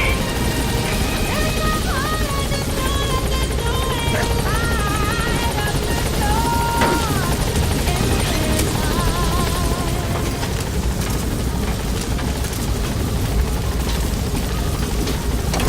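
Helicopter arriving at a landing zone in Metal Gear Solid V: The Phantom Pain, a loud continuous rotor thump and engine roar throughout, with game sound effects and faint radio-style chatter mixed in.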